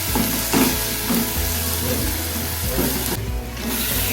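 Masala with kokum frying in a pan for a prawn masala, heard as a loud, continuous close sizzle with occasional stirring scrapes and no voices.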